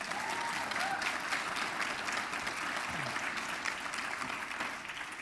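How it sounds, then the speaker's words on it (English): An audience at a UPIKE Bears Hall of Fame ceremony applauds coach Ron Dameron, steady dense clapping from a crowd in a room that holds for several seconds and eases slightly at the end. "give him a round of applause."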